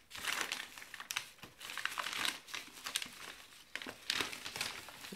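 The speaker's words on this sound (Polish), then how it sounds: "muszę się uporać z otwarciem przesyłki" A shipping package holding a Tracer Smart Mini Bluetooth keyboard is torn open, with close, repeated bursts of crinkling and crumpling packaging in uneven handfuls and brief pauses between them.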